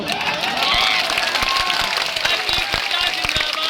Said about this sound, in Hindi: अरे ताली इतना जोर से बजाओ